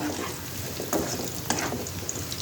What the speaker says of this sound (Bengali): এবার এই আলুগুলোকে আমি তেলে হালকা করে ভেজে নেব